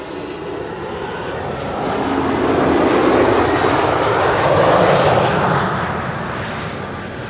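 A German Airways jet operating for KLM arrives at Schiphol's Kaagbaan runway 06, its loud engine roar swelling to a broad, sustained rumble as it passes close overhead, then easing slightly as it recedes.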